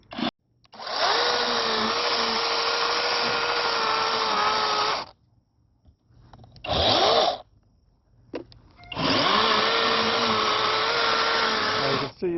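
A chainsaw carves a pumpkin outdoors, running loud and close in two long sustained bursts with a short rev between them, the engine note steady and buzzing throughout.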